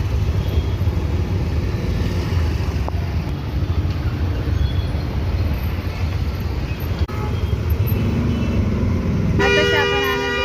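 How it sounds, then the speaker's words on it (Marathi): Road traffic near Anandwadi in Nashik drones as a continuous engine roar, and a loud car horn honks near the end. "गाड्यांची ट्रॅफिक झाली"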